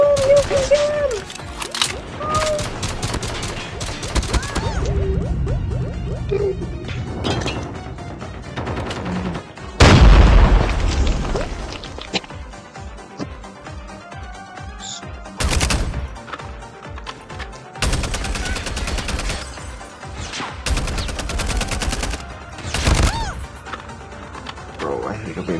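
Gunfire in a Call of Duty Mobile match: rapid bursts and single shots with sharp cracks and heavy impacts, loud and close, under excited talking and game sounds.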